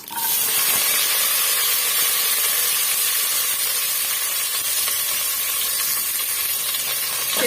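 Onions, dried chillies, curry leaves and garlic sautéing in a hot pan make a loud, steady sizzle and hiss that stays close and constant throughout, with no voices over it.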